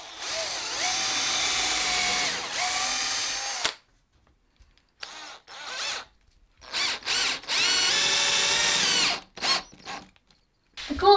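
A power drill drives screws into wood panels for a library reading nook, in several bursts: a long whine, then short stop-start pulses and another sustained run, loud and close with quiet gaps between.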